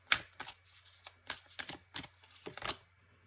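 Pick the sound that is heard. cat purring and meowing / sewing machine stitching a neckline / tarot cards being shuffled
tarot cards being shuffled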